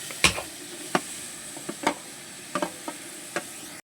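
Tomatoes cooking with salt in a pan for fish biryani, quiet sizzling under a handful of sharp scraping clicks from stirring, spaced irregularly and close.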